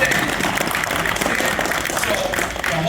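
Audience at a Street Fighter 6 panel at New York Comic Con applauding steadily, a dense, even wash of clapping filling the room from start to finish.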